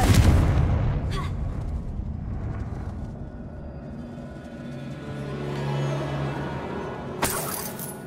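Explosive Confringo spell blast from Hogwarts Legacy: a loud, broadband burst at the start that decays into rumbling debris, with a second sharp crack-like hit near the end.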